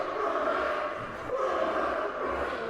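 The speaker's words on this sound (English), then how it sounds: "The next sound you are going to hear is the sea lion recording I got" Sea lions barking at a show, a dense, continuous layer of overlapping barks and calls from a crowded group, steady and moderately loud throughout.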